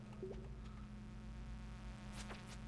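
Wasps in the farming video game Stardew Valley give a steady, faint insect buzz over a low constant hum, with no talking.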